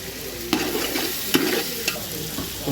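Mutton pulao with coriander and mint stirred in a pot, a loud close sizzle with rhythmic spoon scrapes and knocks every half second or so, with no voices.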